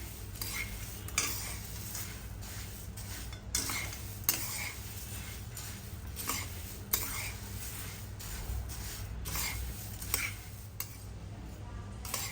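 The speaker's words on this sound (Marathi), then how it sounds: "आपल्याला मुरमुरे परतून घ्यायचे आणि आपल्याला कंटिन्यू मिक्स करत राहायचं आहे" Puffed rice tossed with turmeric in a pan over a medium flame, a spoon steadily scraping and clinking against the metal with a soft, continuous sizzle underneath, no talking.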